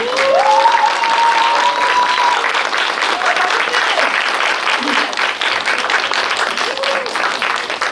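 An audience at a film event gives loud, sustained applause to welcome the director and actors of the movie, the clapping thinning slightly toward the end, with a voice speaking over it.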